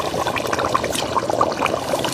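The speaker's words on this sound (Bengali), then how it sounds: "এখন পরিমাণ মতো পানি দিয়ে দেব" Water poured into a pot of khesari meat curry as it cooks, a close, steady splashing gush lasting a couple of seconds.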